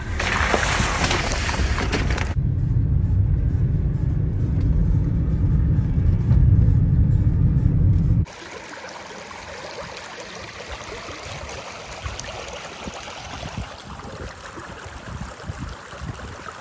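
Vehicle pushing through a river on a remote rural track: a loud, broad rush of churning water and engine rumble for the first eight seconds, then a quieter, steady wash of flowing water and low rumble.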